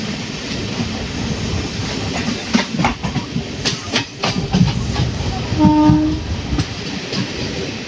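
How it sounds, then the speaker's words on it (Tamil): Cholan Express passenger train running into Tiruchirappalli alongside the Guruvayur Express, a steady loud rumble of wheels and carriages with rhythmic clacking and a short horn blast partway through. "2 வண்டியும் திருச்சி உள்ள போயிட்டு இருக்கு."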